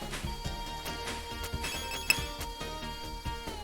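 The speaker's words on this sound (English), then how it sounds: "Did anyone else hear a beep?" A phone's electronic ringtone chimes in a steady repeating pattern, interfering with a microphone during a developer livestream, with no one talking over it.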